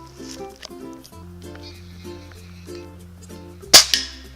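A rifle shot cracks sharply near the end, loud and sudden, with a brief echo trailing it. Quieter tonal background sounds come before it.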